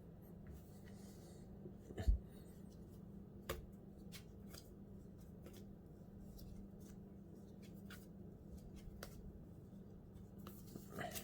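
Magic: The Gathering playing cards drawn and handled on a table, giving a run of faint, close, irregular slides and soft ticks with one sharper knock early on.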